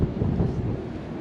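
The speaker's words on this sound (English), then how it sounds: "It's super windy up here" Strong wind buffets the microphone atop Tower Bridge in London in December, a loud low rumbling gust that blows steadily for about a second.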